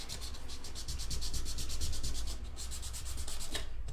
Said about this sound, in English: so you sand it along the length